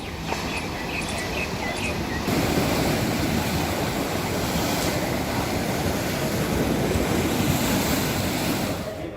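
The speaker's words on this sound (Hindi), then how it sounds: "गुजरात के द्वारका तट पर भी समुद्र की ऊंची लहरें टकराई और ये तस्वीरें कैमरे में कैद की गई" High sea waves crash and roar along the Dwarka coast in Gujarat during Cyclone Nisarga, a loud continuous surf wash mixed with gusting wind buffeting the microphone.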